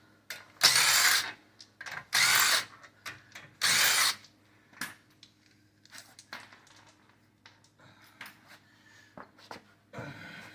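A power tool whirs in several loud bursts while removing lug nuts from the front wheel of a BMW, each run followed by clinks and clatter of the nuts and tools.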